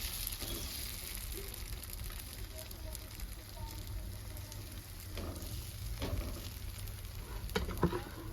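Onion dosa frying in a pan gives a steady, low sizzle that runs without a break, with faint clinks of a utensil and slight shifts in the crackle near the end.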